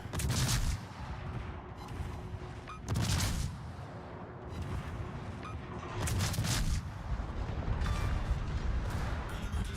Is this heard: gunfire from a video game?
yes